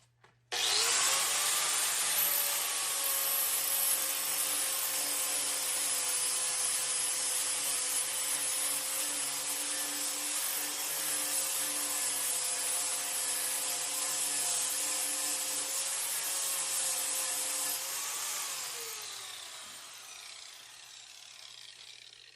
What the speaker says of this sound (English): using the flap disc makes it easier to get around these surfaces